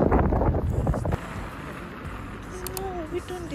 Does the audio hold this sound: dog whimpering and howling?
no